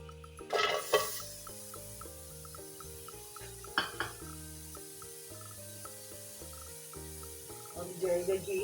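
Onions tipped into a pan for a curry, a brief burst of sizzling and clatter at the start that settles into a quiet fry, with another flare of sizzle near the end.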